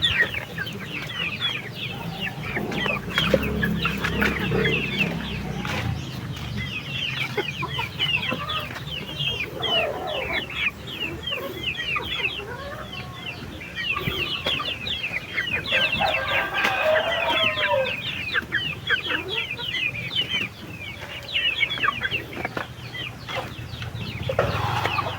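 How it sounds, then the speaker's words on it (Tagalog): Neighbour's chickens cluck steadily for the whole stretch, with many overlapping calls from a sizeable flock and an occasional rooster crow, over a constant outdoor background. "Manok ng kapitbahay namin."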